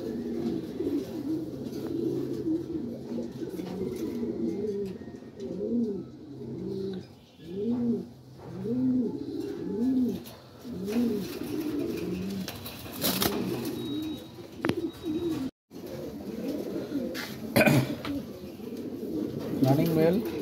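A single male Lahori pigeon, gold in colour, coos close by in repeated rhythmic rolling phrases, with short pauses between them and a few rustles and clicks later on.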